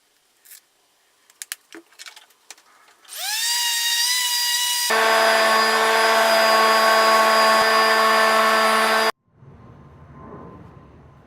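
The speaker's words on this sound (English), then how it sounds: "before I used my sanding machine" An electric sanding machine on a wooden toy car whirs up after a few light knocks, runs with a steady loud buzzing drone, then cuts off, leaving quieter background noise.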